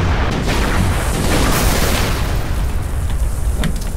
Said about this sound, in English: it's making like exploding noises